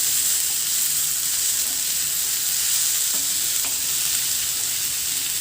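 Potato and tomato bhaji sizzling steadily on a hot tava as it is stirred, a continuous close hiss with a few soft scraping clicks of the spatula, no voices.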